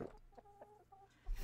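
A chicken in the video game Atlas gives a few soft, quiet clucks in a short series, ending with a louder thump of game noise.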